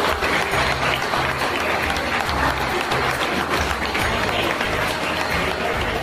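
Loud, sustained applause from a large audience at an Amarnath Yatra 2025 gathering in Bharat Sabha Hall, dense clapping filling the hall throughout with rhythmic low thumps underneath.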